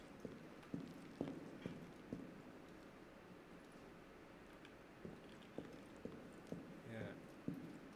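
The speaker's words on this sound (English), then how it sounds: "This sound design, this echo that you hear under his footsteps." Footsteps echo through a church interior in Assassin's Creed Unity, a series of soft, spaced treads with a reverberant tail, quiet and irregular, with faint ambient noise between steps.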